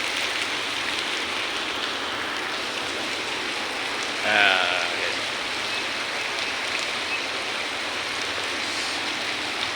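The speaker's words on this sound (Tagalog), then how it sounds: "Ulan gihapon." Steady rain pours down at San Pedro Square in Davao City, a dense even hiss heard from under a big umbrella, with one brief spoken word partway through.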